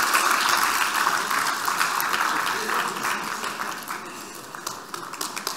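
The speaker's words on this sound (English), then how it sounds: "We need some rounds of applause" Audience applause at an awards ceremony during a Happiness & Positivity Summit, a steady wash of many hands clapping that continues evenly throughout and tapers slightly toward the end, with faint speech underneath.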